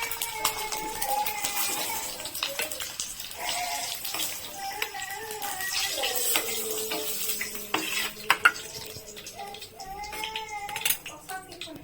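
Sliced onions go into a hot pan that has just held fried eggs, with soft sizzling and the scrape and clink of stirring, under a person talking steadily throughout.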